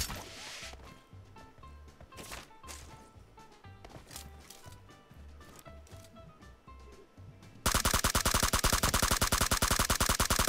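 Battle royale video game gunfire: scattered distant shots and bursts over game ambience, then a sudden loud, close stretch of rapid automatic fire in steady repetition to the end.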